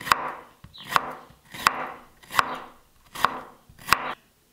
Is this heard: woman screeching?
no